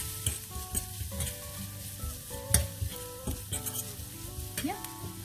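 Dry coriander powder being stirred into a hot, sizzling pan for palak paneer, with repeated close spoon scrapes and clinks over a crackling fry, no voices.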